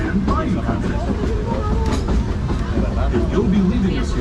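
Disneyland Railroad train running along the rails on its Grand Circle Tour, a steady rumbling ride with clattering wheels and occasional faint squeals, heard from on board under continuous background noise and muffled voices.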